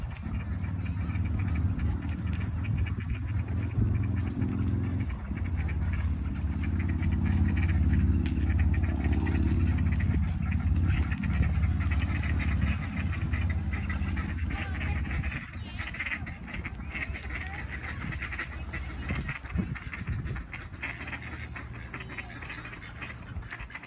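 Ducks quacking at a pond in a noisy outdoor setting, their calls mixed with rumbling low background noise and faint voices nearby.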